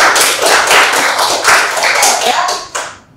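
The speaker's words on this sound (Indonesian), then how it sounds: "Tepuk tangan dulu dong buat teman-teman kita." A group claps for a few seconds, a brisk burst of hands that fades out near the end.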